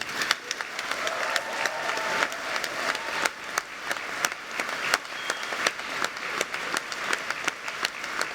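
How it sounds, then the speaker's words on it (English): Audience at a University of Aberdeen summer graduation ceremony applauding, a steady wash of many hands clapping with scattered sharp claps and faint cheering, sustained evenly throughout at moderate distance. "And cheer now and for each and every colleague."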